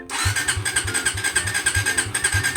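A Suzuki Raider Fi motorcycle fitted with a power pipe exhaust cranks and catches, then settles into a fast, choppy idle with a steady pulsing beat, loud and close.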